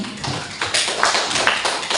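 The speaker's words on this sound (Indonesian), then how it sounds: "Tepuk tangan untuk teman-teman." Audience applause at a school gathering for SMA Bantarsari: a short, fairly loud burst of clapping from a small group, steady and uneven, heard alone without talk.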